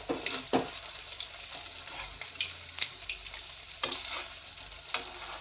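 Sabudana vadas fry in hot oil with a soft, steady sizzle, broken by occasional sharper crackles and clinks as the pieces are turned one by one.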